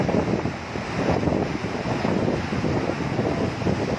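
Water bursts forcefully through the four opened crest gates of the Hemavathi dam, a loud, rough, continuous roar with gusts of wind buffeting the microphone.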